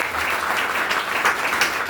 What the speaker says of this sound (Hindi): एक बार अनिल सर के लिए ताली हो जाए भाई।